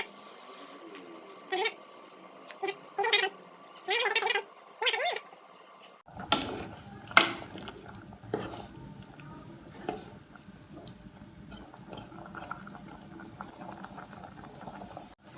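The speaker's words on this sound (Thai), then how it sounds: "น้ำเริ่มเดือดแล้วนะครับผม" Water comes to a boil in a pot for Thai tilapia soup with phak khayaeng: a steady bubbling and rumbling patter that starts after a few seconds of quieter sounds, with no talking.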